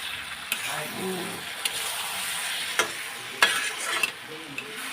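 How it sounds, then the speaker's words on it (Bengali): Potatoes with poppy seed paste and green chilli are stirred in a frying pan, a soft continuous sizzle broken by several sharp scraping knocks of a utensil against the pan. "এখন আমি পোস্ত আটাটা দিয়ে দিলাম পোস্ত আর কাঁচা লঙ্কা এই যে দিয়ে দিয়েছি এখন আমি নাড়াচাড়া দিয়ে দেবো"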